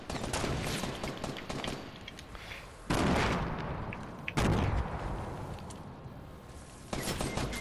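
Gunfire in the video game Fortnite: dense, continuous crackling bursts of shots with two louder surges partway through, rough and noisy throughout, fairly faint overall and with no talk over it.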